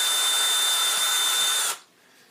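A power drill whines loudly and steadily for under two seconds while drilling holes in a stunt helmet, then cuts off abruptly, leaving a quiet low hum.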